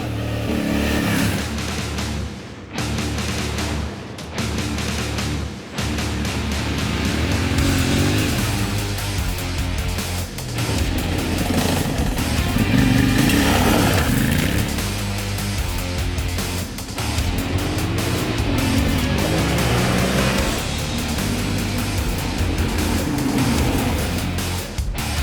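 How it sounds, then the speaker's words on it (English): Yamaha Tenere 700 Rally motorcycle, 2025 model, on a test ride, its engine revving and pulling through gears with rising and falling tones, loud and close throughout with brief gaps early on. "We're talking about the new Yamaha Tenere 700 in the rally setup."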